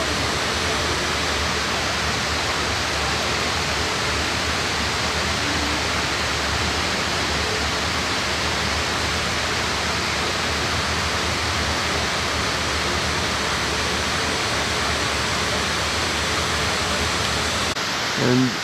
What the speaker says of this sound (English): and there's this charming waterfall.